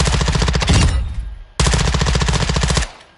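Two loud, close bursts of rapid automatic gunfire from a weapon in Call of Duty MW2, each lasting over a second with a brief pause between them and the echo trailing off.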